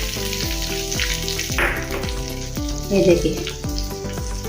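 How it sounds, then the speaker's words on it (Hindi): Urad dal and curry leaves sizzle loudly in hot oil, a tempering poured over cucumber chutney, crackling and popping steadily close by while someone speaks briefly. "अभी इसके ऊपर हम तड़का लगा देंगे।"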